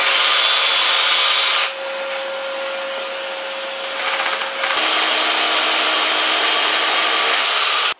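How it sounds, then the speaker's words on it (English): A power drill boring holes into a wall to mount a batten, loud and close, running steadily with a shift in pitch partway through as the bit bites and briefly eases. "I'm going to drill a couple of holes now to get it up the wall"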